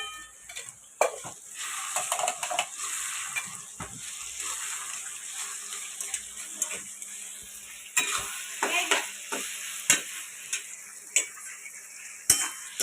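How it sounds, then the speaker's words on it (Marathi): A spoon stirs a vegetable biryani mixture with ghee in a pan, giving a steady sizzle with scraping clinks of metal against the pan over about thirteen seconds, close and fairly loud, with no talking. "आता याला हलवूया."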